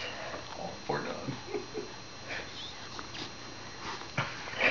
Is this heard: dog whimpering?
yes